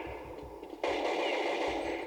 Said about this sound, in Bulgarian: Сега ще някъде става голяма стрелба